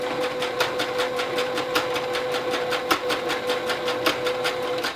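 Sewing machine stitching elastic onto a fabric mask, running steadily with rapid, even needle clatter and a continuous motor whine, close and alone.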